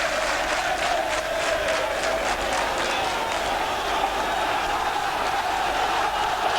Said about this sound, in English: The crowd atmosphere building up here